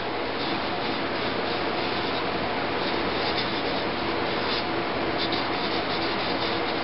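An abrasive pad rubs an Xbox 360 plastic case smooth, a loud, continuous dense scrubbing with no breaks, heard alone and close up throughout.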